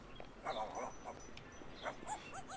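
Dogs in the video game Sunset Hills barking and yipping back and forth, several short barks and whimpers in quick clusters, moderately close.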